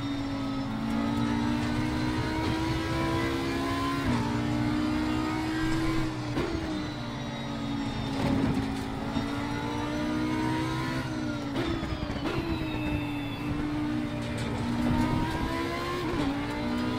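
The Audi R8 EVO GT3 race car at Zandvoort in Assetto Corsa Competizione gives a continuous loud engine howl, rising through revs with repeated quick gear shifts and brief lifts, heard alone without speech.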